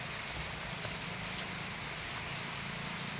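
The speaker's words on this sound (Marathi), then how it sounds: "आणि पाऊसाचा थोडा जोर वाढला" Rain falls over a farm field, heard from beneath a jamun tree as the shower grows heavier, a steady dense patter with constant hiss and no pauses, moderately loud.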